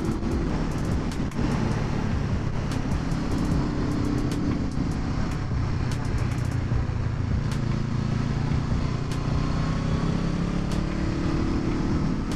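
A Honda CB motorcycle rides along the road, its engine droning steadily under heavy wind rush, with brief ticking sounds scattered throughout.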